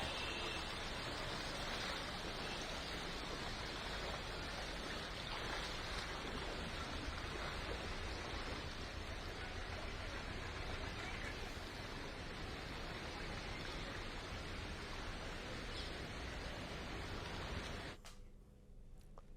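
Floodwater after a cloudburst rushes through flooded streets near Pathankot, making a loud, dense, continuous roar like a steady torrent with no break until it is cut off near the end.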